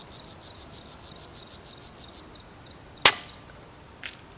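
A single sharp air rifle shot at a pest cracks out loud and close, following a run of regular faint chirps and trailing off into a quiet outdoor background.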